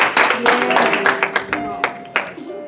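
Applause in a church service, a short burst of clapping from a small gathering that thins out into a few scattered claps, with a voice speaking over it.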